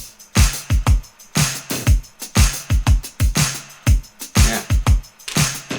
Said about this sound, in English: all the drums and percussions together sounds like this